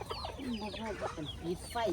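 Chickens cluck close by in a quick, continuous chatter of short pitched calls, with low background noise and people talking alongside.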